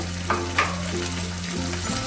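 Onion and ginger paste frying in oil for a prawn and potato curry, a steady close sizzle with a couple of brief scraping stirs over a low, constant hum.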